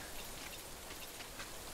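Steady rain in the video game Death Stranding, a constant soft hiss of drops falling evenly across the whole stretch with no voices over it.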